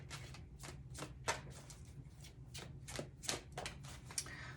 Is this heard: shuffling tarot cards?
yes